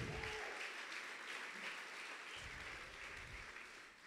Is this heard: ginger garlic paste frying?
no